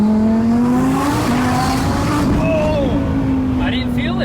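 A 1200 HP twin-turbo Audi R8 on a test drive holds a loud, steady engine drone that slowly climbs in pitch, with faint higher whines on top.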